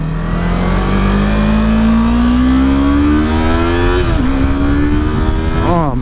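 A 2016 Yamaha R3 motorcycle engine pulls loudly and steadily as it accelerates, its pitch climbing through a gear, dipping briefly at a shift and rising again, with continuous road and wind noise and no talking.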